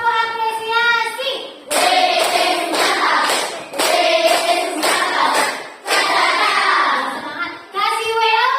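Classroom audience of students at a coding lesson claps in bursts, loud and near, with children's voices chanting between rounds of clapping.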